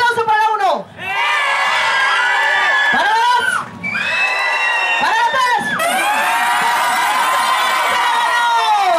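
Audience at a Zumba competition cheering, whooping and shouting loudly and continuously, with high excited voices and crowd noise over music-like tones, a brief dip near the start and again mid-clip.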